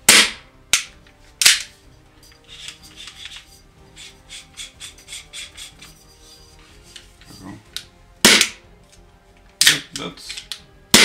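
Airsoft gun with a Novritsch silencer fired in a sound test, sharp loud shots in pairs and clusters separated by softer mechanical rattles and handling noise, with some faint voice in the background.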